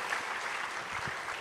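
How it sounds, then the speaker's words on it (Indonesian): Brief burst of congregation applause during a church sermon, a quiet, even wash of many hands heard alone. "Tepuk tangan yang paling meriah buat Tuhan."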